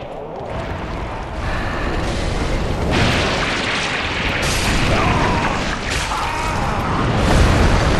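A fire bomb bursting in Dark Souls III, a long loud roaring, crackling blast that swells and rumbles continuously with no talk over it.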